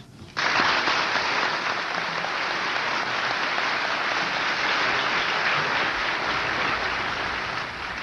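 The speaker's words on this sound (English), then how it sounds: "The applause was sustained and vigorous." Sustained, vigorous applause from a large crowd at the Camp David peace signing ceremony, erupting abruptly after a moment of quiet and holding as a dense, loud, unbroken roar of clapping to the end.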